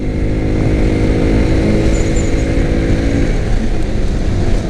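Mahindra Mojo 300 ABS BS6 motorcycle engine droning steadily while riding, with heavy wind rush over a continuous loud low rumble and no talk.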